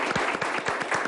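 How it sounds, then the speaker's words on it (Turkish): A brief burst of steady, dense audience clapping at an association gathering, loud and close, filling the whole moment with no talk over it. "Buna bir alkış gider yani"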